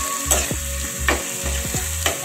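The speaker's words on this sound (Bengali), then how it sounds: "আবার নাড়াচাড়া করবো" Food frying in a pan is stirred with a steady sizzle, broken by four regular scraping strokes about half a second apart. The sound is close and there is no talking.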